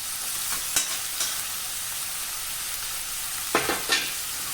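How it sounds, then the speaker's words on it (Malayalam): Ginger frying in oil for Kerala inji curry, a steady broadband sizzle throughout with a few brief stirring scrapes and clinks near the start and near the end, close and alone with no talk. "അപ്പം നമ്മൾ ഇഞ്ചിയൊന്ന് നന്നായിട്ട് വറുത്ത് കോരുന്നു എണ്ണയിൽ."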